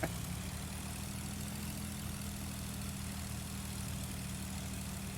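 A Cessna 182 piston engine idles steadily while taxiing in Flight Simulator X, a constant low propeller drone with a broad hiss above it, even and unbroken throughout, with no talk.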